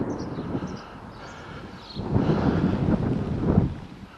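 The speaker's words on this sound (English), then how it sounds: "A little bit of wind, hope you can still hear me." Wind blowing outdoors at night on a residential street, buffeting the microphone in irregular gusts that grow stronger toward the end, with no speech.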